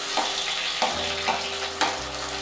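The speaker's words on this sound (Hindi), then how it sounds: "अब हम इसमें कटा हुआ प्याज डाल देंगे।" Chopped onion sizzles in hot mustard oil in a kadai, a steady close-up crackle with a few stirring scrapes, no voices.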